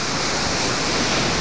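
Dense, continuous roar of plunging waves breaking on a cobble and sand shoreline beside riprap walls and boulder gardens near a creek outlet, loud and close with no pauses or voices.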